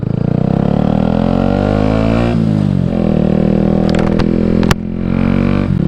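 A Yamaha MT 125 fitted with an Akrapovic exhaust drones loudly and steadily while riding, its engine note rising and falling through gear changes, heard up close from the bike with no talking.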